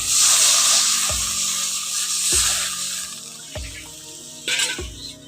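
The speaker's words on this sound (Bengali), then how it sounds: "এখন টমেটোটাকে একটু ভালো করে ভেজে নিয়েছি, এবার পরিমাণ মতো জলটা দিয়ে দিচ্ছি।" Tomato frying in a pan as water is poured in, giving a steady close hiss and sizzle with a few clinking knocks of a spatula against the pan, no talking.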